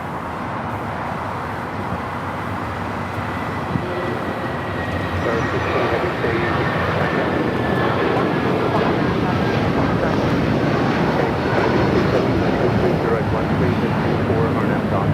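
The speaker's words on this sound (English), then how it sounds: "that A380 Super taking off there on the north side, 24 left" An Airbus A380 airliner takes off from the north side runway 24 left at LAX, a broad distant roar that swells slowly and grows louder over the span, mixed with wind noise and a voice talking.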